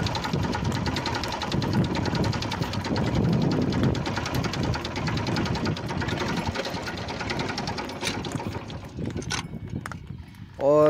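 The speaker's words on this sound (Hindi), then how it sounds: "स्टार्ट करके देखते हैं मेशी 35 की आवाज़ सुनेंगे" The diesel engine of a Massey Ferguson 35 tractor runs with a rapid, steady mechanical clatter close by, thinning out toward the end before a short, louder burst of noise.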